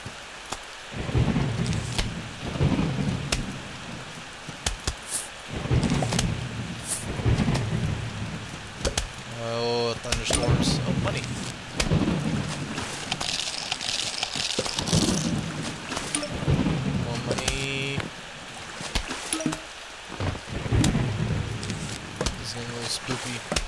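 Thunderstorm in Plants vs Zombies night level: steady rain hiss broken by repeated thunder rumbles and cracks, with a person talking over much of it and game effects chiming in.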